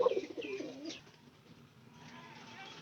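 White pigeons cooing in a loft, a soft near coo at the start followed by quieter fainter calls, with some low background murmur.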